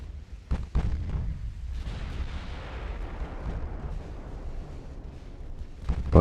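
Battleship main guns firing in the naval game Ultimate Admiral: Dreadnoughts: a couple of heavy booms up front, a long rolling rumble fading away, then another sharp blast at the end.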